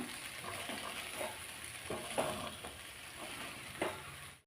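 A steady sizzle from a hot pan with scraping, clattering strokes of a spoon stirring cooked rice for mango rice every second or so, close by, with no talking.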